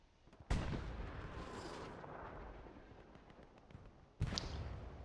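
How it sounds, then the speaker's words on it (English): A self-propelled artillery shell bursts in Hell Let Loose on Elsenborn Ridge: a sharp, loud blast followed by several seconds of rumbling echo, then a second heavy impact near the end. "I think that was the SPA shell."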